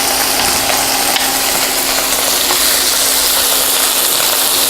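Guanciale sizzles in oil in a pan over medium heat, a steady dense crackle of frying fat holding level throughout with a faint low hum beneath.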